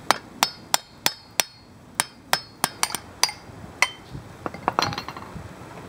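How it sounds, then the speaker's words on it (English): Hammer blows striking metal while knocking out a wheel bearing part, a dozen or so sharp ringing clanks at uneven intervals, close and loud, with quicker lighter taps near the end. "So I'm gonna hit it with a hammer."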